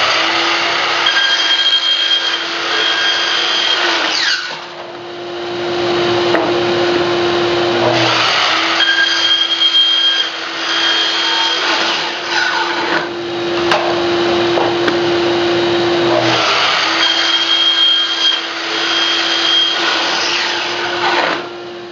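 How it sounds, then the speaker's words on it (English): A power saw runs steadily while cutting 2x4 lumber into 4-inch chunks, with a loud continuous whine swelling into three or four longer cuts and easing between them, and no talking. "we're going to be cutting these into 4-inch chunks"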